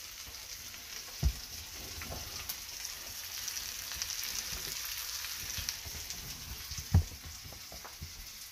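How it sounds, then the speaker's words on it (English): A steak sears in a hot pan for a Cajun surf and turf, giving a steady, fairly quiet frying hiss throughout, with two brief sharp pops or crackles standing out near the start and toward the end. "I hope you can hear the sizzling of the steak"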